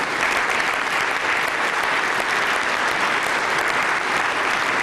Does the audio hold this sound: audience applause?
yes